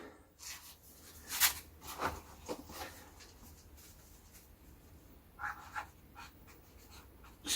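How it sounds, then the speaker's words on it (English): A pen writing on a plastic potato tub, giving quiet, close scratchy strokes in short bursts with pauses between them. "I'm just going to write"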